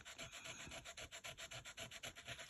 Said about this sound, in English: So I've got now one of these sand erasers.